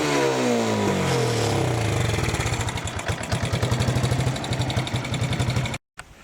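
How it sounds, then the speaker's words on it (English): A 1987 Yamaha YFM100T four-wheeler engine with a shredded rear differential revs up close, rising in pitch and then settling into a rapid, chugging putter before cutting out abruptly. "Give it a rev."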